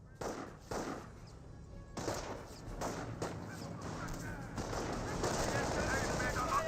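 Gunfire rattles through a Company of Heroes 1 battle, with bursts of machine-gun and rifle fire rising over ongoing combat noise, loud and near, while a caster's voice talks over it.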